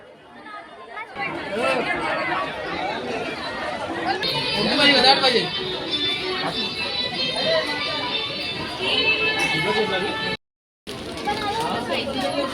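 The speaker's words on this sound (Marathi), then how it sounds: "मंदिरात बघा किती गर्दी आहे" A busy Ganesh temple in Titwala fills with steady crowd chatter and overlapping voices, including children, close and continuous, broken by one brief dropout near the end.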